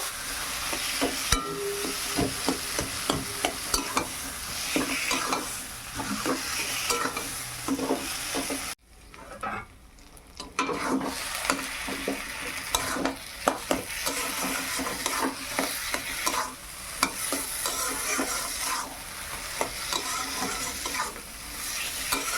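Seeded bananas fry in a pan with a continuous dense sizzle and frequent scraping stirs. The sizzle drops out briefly partway through, then resumes just as busy until the end, with no one talking.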